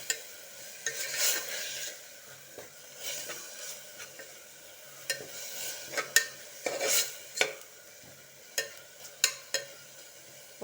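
Soya chunks stir-fried in a pan for a high-protein pulao: irregular spatula scrapes and clinks over a low, steady sizzle, with no voices.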